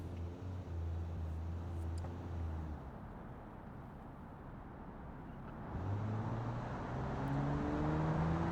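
A car in a driving video game revs and accelerates toward a jump in a jump arena, the engine note rising, dipping through the middle, then climbing again in a steady loud drone, with no talking.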